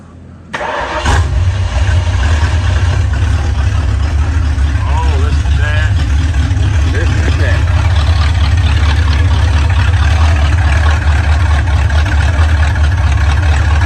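A 1968 Ford Mustang V8 cranks and catches about a second in, then settles into a steady, loud, rumbling idle that runs unbroken to the end, with faint voices in the background.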